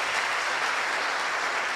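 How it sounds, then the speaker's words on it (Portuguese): Church audience applauding at a talk on Saint Zélie Guérin, a dense, even wash of many hands clapping at steady loudness through the short span, with no voices over it. "E por que não aplaude de novo, por favor?"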